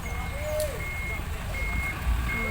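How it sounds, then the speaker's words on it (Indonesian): A vehicle backing up near a roadside spot where vegetables are being scavenged sounds repeated steady reversing beeps over rumbling engine noise and background chatter, the tones recurring at a measured rhythm. "Ada mobil mau mundur, jadi aku minggir sebentar ya teman-teman"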